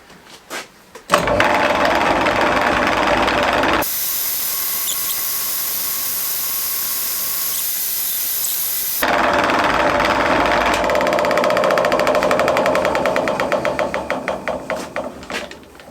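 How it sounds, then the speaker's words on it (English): A wood lathe spinning a turned bowl while it is finished with wire wool: a loud, steady motor whir with a harsh rubbing hiss that drops to a smoother hum midway, returns, then winds down to stuttering ticks. "I'm just going to turn the bowl and finish off with a little bit of wire wool."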